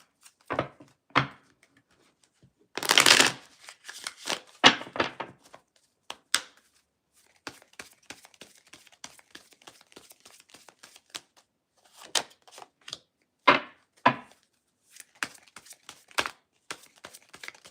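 Crisp bursts of tarot cards being shuffled and riffled, with scattered light taps and flicks of cards being handled in between.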